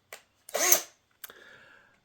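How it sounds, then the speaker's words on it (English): Small 1/16 drill bit boring through glue-hardened paper for an arrow nock, short close bursts of whirring spin, one longer burst followed by a fading run. "you have to use a fairly small drill bit"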